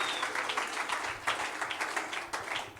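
A church congregation applauding the Lord during a French-language sermon, with steady, fairly quiet crowd clapping throughout and a faint voice in the background.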